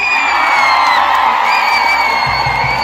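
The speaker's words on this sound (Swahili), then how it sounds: "Kwanza makofi na vigelegele." A crowd in Geita erupts in loud ululation and cheering, high trilling voices rising over a dense wash of noise and clapping.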